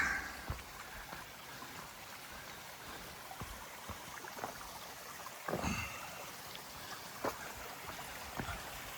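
Bromley Brook on the Appalachian Trail flows and trickles nearby in a steady, soft wash, with a few louder splashes and knocks breaking through.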